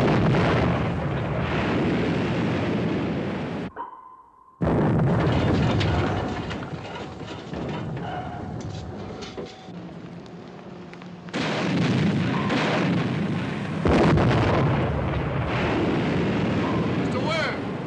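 In a film scene aboard an American WWII destroyer hunting a German U-boat, heavy naval guns fire in loud booming blasts with explosions, and crew members shout orders between bursts.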